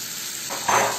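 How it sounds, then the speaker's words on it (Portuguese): Steak frying in butter with a pinch of rosemary in a hot pan gives a steady close sizzle that swells louder and brighter near the end of the short stretch. "ó, fritando muito bem o bife."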